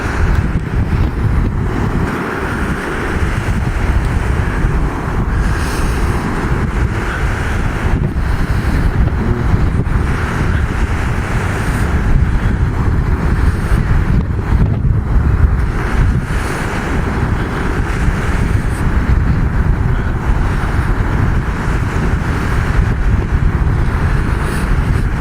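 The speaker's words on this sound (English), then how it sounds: "we're walking directly into the wind" Strong wind buffets the microphone in a continuous loud rumble while walking into the wind through a junkyard on a cold day, gusting steadily with no talk.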